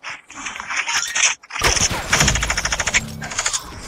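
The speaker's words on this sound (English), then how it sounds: "Bro, I bought a minigun from my house." A minigun fires in the Fortnite video game, loud rapid rattling bursts that stutter, pause briefly, then resume in a dense sustained stream of shots.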